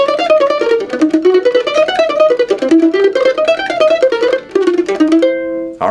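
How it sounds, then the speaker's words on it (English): Mandolin plays a bluegrass run in Monroe style, mixing staggered arpeggios with a sliding lick, a steady stream of bright picked notes that ends on a held chord, close and alone. "So this is a combination of staggered arpeggios and the Slidey Lick."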